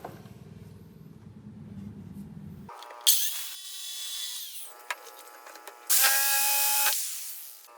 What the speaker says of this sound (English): then I'll use the jigsaw to clean it up